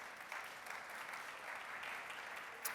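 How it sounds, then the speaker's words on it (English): An audience at a startup pitch event gives a round of applause for the startups, a steady, faint patter of many hands that sounds distant and continues throughout. "So, round of applause, please, for our startups."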